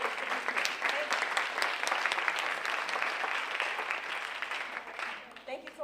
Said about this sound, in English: So parents, I want to give you all a round of applause as well